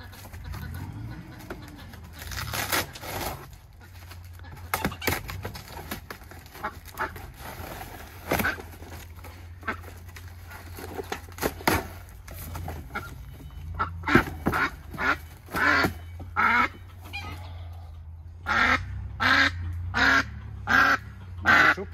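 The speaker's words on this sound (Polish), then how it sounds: "Kaczka staropolska czubata." Old Polish crested ducks quack in a farmyard, with scattered honks and calls growing into a rhythmic series of louder quacks toward the end, over a low steady background hum.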